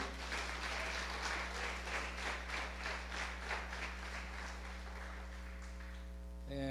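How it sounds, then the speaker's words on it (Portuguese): A church congregation claps for the Lord after the pastor's call, a sustained rhythmic round of applause over a low hum that fades out near the end. "Pode dar uma salva de palmas ao Senhor?"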